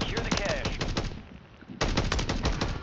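Automatic gunfire in the video game Warzone 3 rattles in rapid sustained bursts with a short lull before resuming, loud and close.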